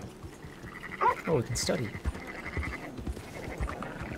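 Merino sheep bleat in Red Dead Redemption 2, a few wavering calls near and loud amid ambient outdoor game sounds, with a person talking over them.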